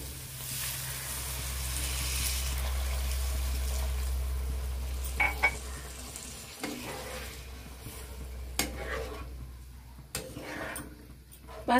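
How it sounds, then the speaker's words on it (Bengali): Water poured into a pan of egg curry, a loud rushing fill and hiss in the first seconds, then settling into quieter bubbling sizzle broken by occasional spoon clinks. "এখন দিয়ে দিচ্ছি জল।"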